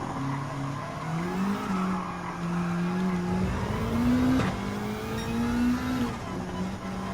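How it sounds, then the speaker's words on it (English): Race cars in the Gran Turismo 7 video game, including a Subaru WRX Impreza rally car chasing a BMW M3, with engines droning and tires squealing steadily through corners. "There goes a Subaru WRX Impreza."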